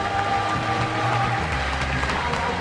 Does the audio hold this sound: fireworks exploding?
no